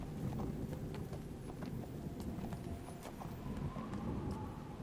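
Horse hooves clip-clopping in the video game Neverwinter, a steady rhythmic trot of hoof beats with a brief whinny, close and moderately loud with no talking.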